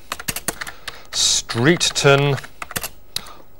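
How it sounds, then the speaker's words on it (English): Rapid, irregular clicks of typing on a computer keyboard, close and crisp, continuing under a man's speech in the middle of the clip. "he was typing the information in, and he was typing it in like this"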